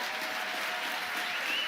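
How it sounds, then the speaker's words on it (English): Audience clapping, a dense continuous burst of applause from a crowd, steady and fairly loud throughout. "Whenever he gets fired up, people start clapping."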